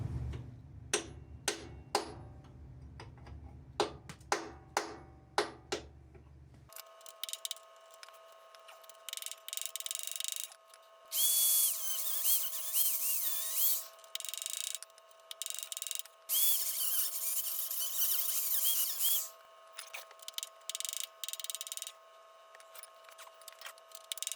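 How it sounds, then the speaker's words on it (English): A chisel scrapes the metal frame of a garden tractor loader: first a run of sharp ticking clicks, then bursts of harsh, gritty scraping that start and stop repeatedly, close and fairly loud. "Now we'll get a chisel up into here."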